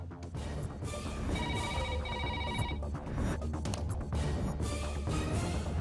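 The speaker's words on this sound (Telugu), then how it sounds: "లేక అక్కడ మోగేది ఆ ఫోన్ అయి ఉంటుంది." An indoor telephone bell rings in a repeated trilling burst over a busy background, loud and close, with no talking.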